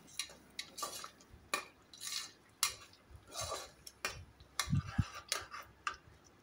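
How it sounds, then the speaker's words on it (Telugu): Salt and chili being mixed into a stuffed brinjal curry in a pan, heard as intermittent clinking stirs and scrapes of a utensil at an uneven rhythm, fairly quiet and close, with no talking. "ఇలా మొత్తం వేసేసుకొని బాగా ఇలా కలుపుకోవాలి."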